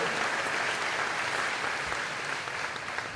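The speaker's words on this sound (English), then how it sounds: "Can we have a huge round of applause for their creativity" Audience at a high school graduation ceremony applauding, a steady wash of many hands clapping throughout, full and sustained with no break.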